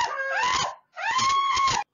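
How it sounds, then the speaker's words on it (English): A woman screams twice in sharp, sustained bursts with a brief gap between them, loud and close, after climbing onto paint cans used as a step stool. "What are you screaming for?"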